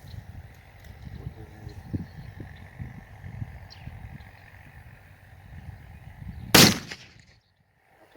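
Black powder gunshot rings out as a single sharp, loud blast near the end, cutting through quieter rumbling outdoor background with faint thumps before it, followed by near silence.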